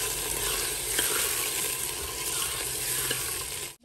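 Meat browning in a pan over lightly browned onions, a steady, dense sizzle and crackle that fills the clip without talk, with occasional faint scrapes and an abrupt stop at the end.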